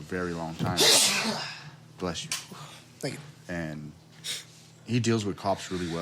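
A single loud, close sneeze bursts out early in a conversation between men, and talking resumes right after it.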